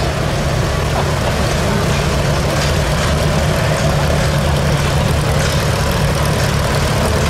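A restored 1946 Oliver Model 70 tractor, rated at 33 horsepower, runs its engine at a steam power show in Sycamore, Illinois. It gives off a steady, loud, low droning rumble that does not let up.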